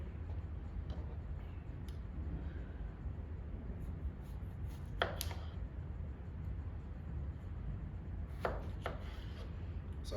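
A knife cutting a tomato into thin slices on a board, a few crisp cuts and taps against a faint low background hum, quiet and close, no talk heard.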